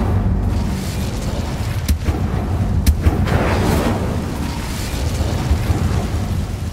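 Someone casts the Incendio fire spell in Hogwarts Legacy, and it comes through as a dense, roaring burst of rumble and crackle with no letup, loud and continuous, with a couple of sharp pops near the middle.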